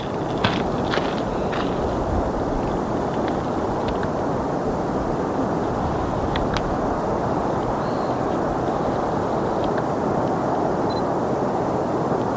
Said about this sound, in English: You can hear that roaring sound. It is the river flowing below.